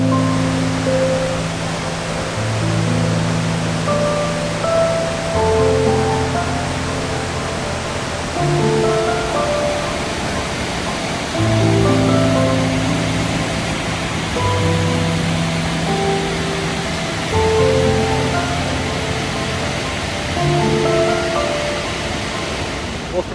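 A secluded waterfall in Sequoia National Park roars as a steady, full rush of water. Soft sustained musical tones drift over it throughout.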